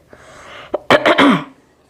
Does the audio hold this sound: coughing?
yes